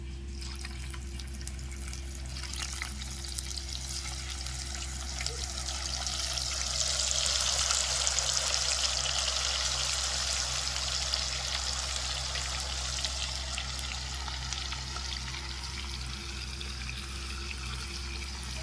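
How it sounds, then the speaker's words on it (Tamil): Pieces of chicken fry in hot oil for a ghee podi chicken dish, giving off a steady, dense sizzling hiss that swells slightly in the middle and continues without a break, with no talk. "இந்த சிக்கனை வந்து எண்ணெயில் போட்டு பொரித்து எடுத்துருவோம்"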